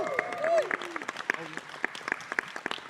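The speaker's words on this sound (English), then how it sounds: "Can we give him a round of applause?" An audience at a Star Wars press conference breaks into applause, a scattered, moderately distant patter of clapping that follows a voice over a microphone, with camera shutter clicks and flashes sounding repeatedly over it.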